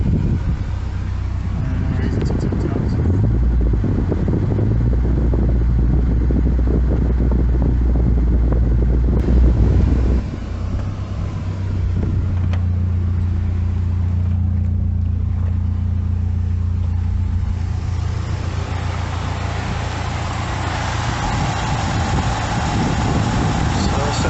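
A car engine idles steadily at close range with the AC and headlights switched on, putting load on a failing alternator; a low mechanical drone and fan whir run throughout, with a brief rev-like swell early on and people talking over it.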